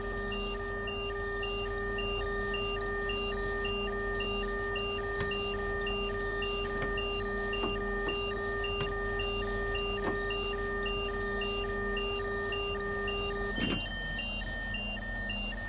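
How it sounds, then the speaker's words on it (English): A train cab alarm in the video game Train Sim World 2 beeps steadily in a regular pulsing pattern over a low engine hum, then cuts off near the end. "Okay, well that's got rid of the alarm."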